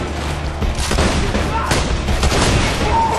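Automated turret firing in Borderlands 2, a steady stream of rapid shots with dull booms mixed in, continuous and fairly loud amid game noise.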